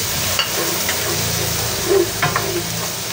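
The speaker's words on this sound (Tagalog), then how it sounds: "dito na rin po tayo magigisa ng ating luya, bawang." Ginger and garlic sautéing in leftover frying oil from pink salmon belly, a loud steady sizzle close up with a few light stirring clinks and bubbling pops.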